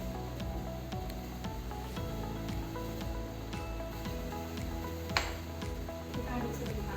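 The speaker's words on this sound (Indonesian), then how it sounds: "Kita aduk sebentar." A dish soap solution being stirred and mixed in a chemistry lab, a steady close-up scraping and swishing with faint rhythmic ticks and a low continuous hum beneath, no clear talk.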